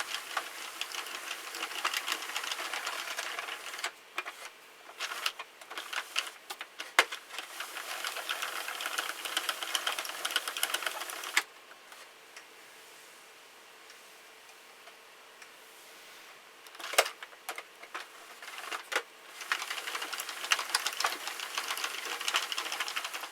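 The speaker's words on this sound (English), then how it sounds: "I'm simply going to crank an entire row without yarn here" A Sentro knitting machine cranked around a full row with no yarn makes a fast, continuous ticking and clicking. It pauses briefly partway through, then the cranking resumes for a few more bursts.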